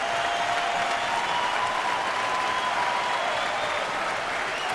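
Baseball stadium crowd at a Cincinnati at Milwaukee game roars and claps steadily for the pitcher, a dense sustained wall of cheering from a large crowd.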